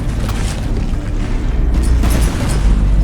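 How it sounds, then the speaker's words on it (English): Deep booming explosions roll continuously through a From the Depths battleship tournament battle, heavy low rumbles and bursts overlapping in a dense, loud barrage of naval gunfire and hull hits. "Explosions everywhere."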